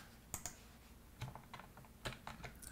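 Computer keyboard keys tapped in short scattered bursts while editing code, a few isolated clicks followed by quick clusters of keystrokes, close and fairly quiet with no talking.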